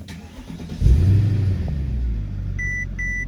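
A stock car's engine cranks and catches, settling into a loud, close idle rumble with a stock exhaust, while a soft electronic chime beeps twice near the end.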